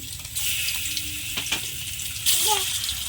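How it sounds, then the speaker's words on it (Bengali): Fish pieces sizzle as they are laid one by one into hot oil, a continuous hissing fry that swells at a few points, with short clinks over it. "তেলটা গরম হয়ে গেছে, এবার তেলের মধ্যে মাছ ছাড়বো একটা একটা করে।"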